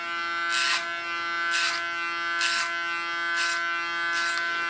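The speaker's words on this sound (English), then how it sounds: "I'm working clipper over comb, because then I can control it better than when I work with a clipper comb on the clipper." Electric hair clipper cutting hair over a comb for an ultra-short summer haircut, a steady close buzz with five rhythmic louder bursts as the blades bite into the hair, with no talk.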